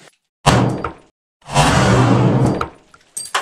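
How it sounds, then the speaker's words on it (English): Glock pistol shots hit a Beavercraft BSH1 knife with a 1066 carbon blade, giving two loud sharp bursts with a noisy crashing tail and a quieter pair of hits at the end. "I think the first GLOCK shot didn't destroy it, but the second two kaboomed it big time."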